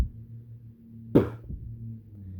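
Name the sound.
beatboxing bass sound, B and P mimicked together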